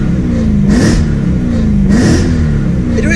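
BMW E92 M3 fitted with an Armytrix valved exhaust, valves closed, revving in two loud rising-and-falling bursts over a steady rumbling idle, close by.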